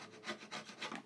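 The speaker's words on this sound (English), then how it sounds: "slowly remove these little curls until we're the depth we want" A chisel pares thin wood curls inside a cut groove, four soft rasping strokes in an even rhythm, very close and quiet.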